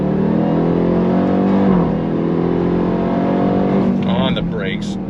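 A 2024 Dodge Durango Hellcat Black Edition's supercharged V8 accelerates hard from inside the cabin, its engine note climbing steadily through the gears with a brief shift dip and sustained loud drone, while a person talks over it.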